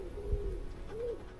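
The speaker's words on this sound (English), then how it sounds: "Just birds, mate, just birds." A bird in the woods gives low, hooting, cooing calls, a steady tone dipping and then rising in a brief swoop, faint over a quiet outdoor background with a soft low thump.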